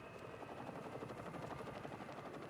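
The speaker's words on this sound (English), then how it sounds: "I think that might be a GCPD helicopter." A GCPD police helicopter in Batman: Arkham Knight hovers nearby in a city, its rotor chopping in a steady rapid pulse at moderate volume with a faint engine whine, no voices over it.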